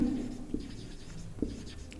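A pen scratches across paper while a math solution on the area of a shaded region of circles is written out, giving soft, close scribbling strokes with a few sharper taps.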